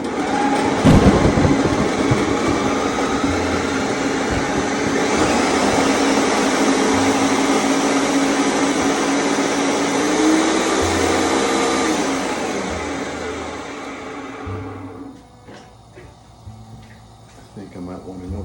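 A kitchen blender runs loud and steady for about fifteen seconds, pureeing fresh tomatoes for a homemade sauce from scratch, with its whirring motor shifting pitch slightly mid-run before cutting off into quieter room noise.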